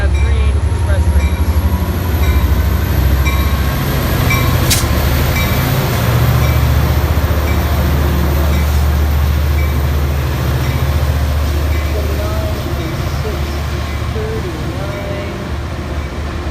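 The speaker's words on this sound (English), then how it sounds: "So this is one of the 3 Angels Express trains." A 3 Angels Express passenger train runs past at Fullerton on a line that continues to Laguna Niguel, giving a loud, steady rumble of cars and wheels that fades a little toward the end.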